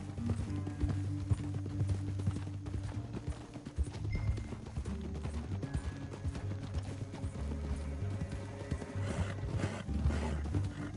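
Horse hooves clip-clop in a steady rhythm close by, moderately loud over a low rumbling background and occasional animal snorts.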